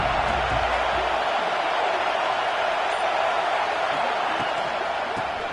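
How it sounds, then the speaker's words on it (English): A stadium crowd at an Ohio State football game roars in a broad, continuous wash of cheering that stays loud and steady throughout. "This crowd ready to make its presence known."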